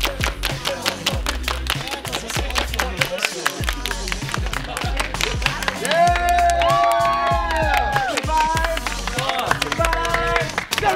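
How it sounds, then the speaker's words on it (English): A group of people clapping in unison on a count at a production set, sharp sharp claps amid crowd noise, cheering and a burst of music-like tones, with talking throughout. "One big clap on three"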